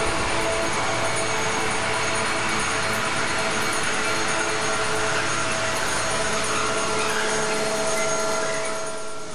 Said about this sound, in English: it was time to catch the Italian Railways train at the local underground station to get back to the airport